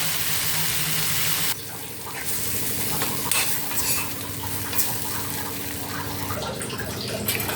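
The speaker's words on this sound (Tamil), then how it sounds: "தக்காளி இன்னும் கொஞ்சம் வதங்கணும்." Tomatoes for onion chutney sizzle in a pan while being stirred with repeated scraping strokes, a loud, dense hiss close to the pan, with no speech.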